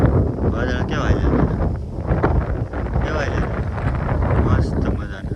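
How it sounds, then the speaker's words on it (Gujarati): Strong morning wind blows across a mango farm, buffeting the microphone in loud gusts while a person talks. "સવારમાં તો ભાઈ પવન કેવો આવે છે બહુ પવન છે"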